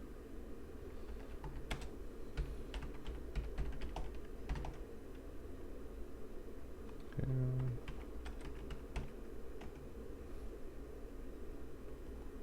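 Someone typing a command on a computer keyboard: scattered, irregular key clicks in short bursts over a steady fan-like hiss, close and fairly quiet.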